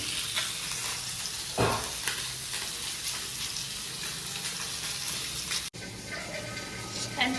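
Marinated fish fries in a pan for a home-style Tamil fish fry, giving a steady, moderately quiet sizzle with soft crackle and a brief stir or clatter, continuous throughout.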